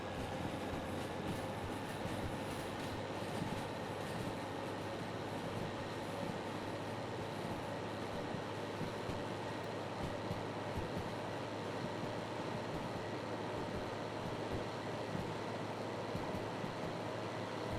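A locomotive in the Derail Valley video game hauls a hazmat train with a steady engine drone, rolling wheel rumble and faint rhythmic clacks, continuous and close throughout.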